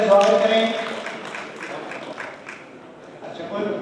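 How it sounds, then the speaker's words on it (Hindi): Applause at a community award ceremony honouring students in Bikaner, heard as scattered clapping beneath a loud announcer's voice that fades toward the end. "जोरदार तालियों से स्वागत करें"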